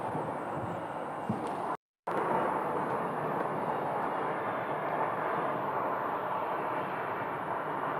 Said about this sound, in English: We have an A320 pulling in right behind them.